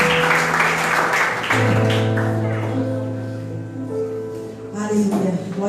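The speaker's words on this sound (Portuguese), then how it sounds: "Pode se sentar, mas sente-se aplaudindo e celebrando o amor de Deus" Applause from a congregation at a Portuguese-language family church service, a steady wash of clapping that runs throughout and thins toward the end, layered over sustained musical tones.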